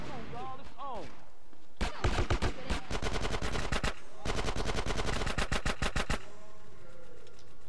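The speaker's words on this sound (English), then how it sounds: "Shooting at me" Bursts of rapid gunfire ring out in GTA San Andreas, loud repeated volleys of automatic shots with brief gaps between them, preceded by a short stretch of game audio.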